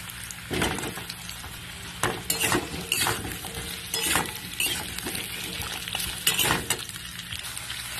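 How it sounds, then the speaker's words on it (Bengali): Steady sizzling of potatoes and onions stir-frying in oil, with repeated scraping and stirring strokes and occasional utensil clinks, close up. "আলুগুলো তেলের মধ্যে দিয়ে দেবো দিয়ে পেঁয়াজের সঙ্গে একটু এক মিনিট মতন কষিয়ে নেব"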